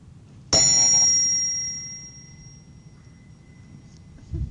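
Two tuning forks struck and sounding together during a chemistry lecture: a sharp metallic strike gives way to a clear, sustained ringing tone that slowly fades over a couple of seconds in a quiet room.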